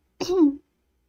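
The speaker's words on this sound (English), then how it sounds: "sorry I keep clearing my throat" A single short, raspy throat clearing, close and fairly loud, followed by silence.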